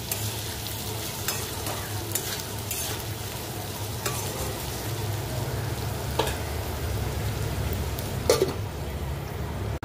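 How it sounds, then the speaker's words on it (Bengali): Potato, onion, chili, ginger and garlic fry in a pan with a steady, close sizzle, broken by occasional scraping strokes of a spatula. "আলু, পেঁয়াজ, লঙ্কা, আদা, রসুন দিয়ে একটু ভেজে নিচ্ছি"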